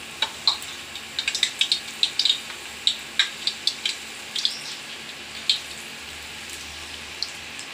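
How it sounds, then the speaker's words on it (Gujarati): Banana bhajiya fritters fry in hot oil in a Gujarati village kitchen, with a soft, steady sizzle broken by frequent small crackling pops, heard close with no talking. "તેલ આવી ગયું છે, તો પહેલાં કેળાના ભજીયા બનાવું"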